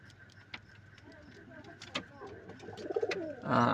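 A pigeon suffering from a liver problem gives soft, low cooing calls, close by, with scattered ticking and clicking noises and faint voices in the background.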